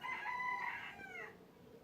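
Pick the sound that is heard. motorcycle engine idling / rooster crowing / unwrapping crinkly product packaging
rooster crowing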